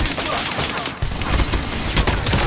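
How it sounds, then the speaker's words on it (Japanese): Rapid volleys of gunfire in Call of Duty Mobile, sharp cracks and bursts coming fast and dense over a constant game background, loud and close, with a brief pause near the first second before the shooting resumes. "銃声。"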